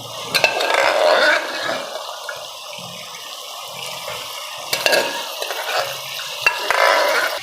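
Boiled mutton stirred through masala in a pan, with a steady sizzle of frying and repeated scraping strokes of a spoon against the pot, close and fairly loud with no talk.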